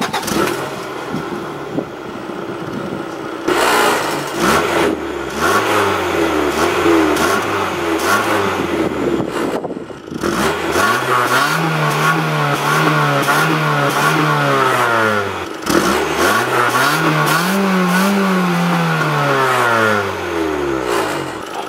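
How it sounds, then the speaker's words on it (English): Stock Acura Integra GS DC2 engine revved repeatedly, several rising and falling throttle blips over a steady idle, close and loud with no talking. "let's jump into the revs"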